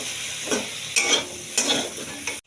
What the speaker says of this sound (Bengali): এবার বেগুনটা ভেজে নিচ্ছি।